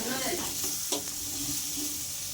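Grated carrot fries and is stirred in a pan for carrot halwa, giving a dense continuous sizzle with one brief spoon knock and no voices.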